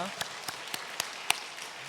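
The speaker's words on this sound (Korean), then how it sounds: "박수로 환영하도록 하겠습니다." Church congregation clapping to welcome new members, heard as a faint, sparse run of individual claps at a slow, roughly even pace over soft background noise.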